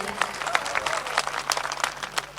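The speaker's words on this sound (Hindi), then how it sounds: "तो एक बार आप लोग अपने लिए जोरदार तालियां बजा लीजिए।" Festival crowd at Kushinagar Mahotsav 2022 breaks into loud applause, with sharp, uneven bursts of close clapping over a murmuring audience throughout.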